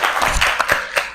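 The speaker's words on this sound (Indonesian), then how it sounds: "Oke, beri tepuk tangan dulu buat Keke." Brief scattered clapping for a student in a classroom, a few hands giving uneven, sparse claps at close range that fade quickly.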